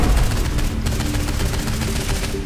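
Gunfire in the Saints Row 4 video game: a dense, loud stream of rapid shots with booming low impacts, continuous for the whole stretch and with no voices.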